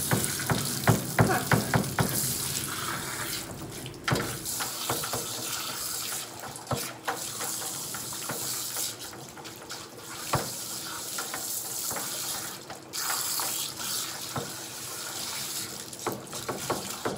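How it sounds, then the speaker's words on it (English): Water from a tap runs in a sink during a terrier–Yorkie mix dog's bath, a continuous splashing hiss that comes and goes as the flow is cupped and redirected, with sharp knocks and handling noises between. "I control where the water flows"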